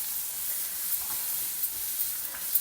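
Kabuli chana sundal with fresh grated coconut being sautéed in a pan, a soft steady sizzle and hiss with a few faint stirring taps, quiet and with no talking.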